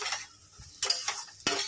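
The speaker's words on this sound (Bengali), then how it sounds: "এই দেখো, এখানে নিম পাতা ভাজছি।" Neem leaves fry in a pan, soft sizzling broken by a few sharp scrapes and clinks of a spatula against the metal, close and otherwise quiet.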